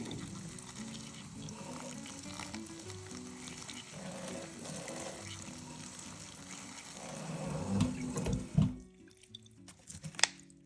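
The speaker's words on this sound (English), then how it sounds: "what I'm going to do is lightly water these in" Water pours steadily from a watering can or tap over freshly planted cuttings, a continuous close splashing wash that swells briefly near the end before trailing off into quiet.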